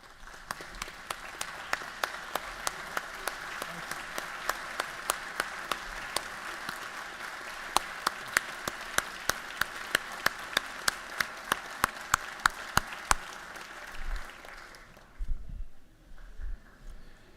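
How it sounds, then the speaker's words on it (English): Members of the Georgia House applaud in the chamber under the gold dome, a steady crowd of sharp individual claps for about fourteen seconds that then dies away, leaving a few low thumps. "So I want to give you a round of applause."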